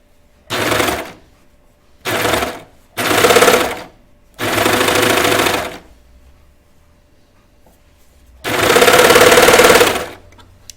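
Five separate bursts of close sewing-machine stitching run along the hem of a knit T-shirt sleeve, each lasting about half a second to a second and a half, with quiet gaps between them and no voices.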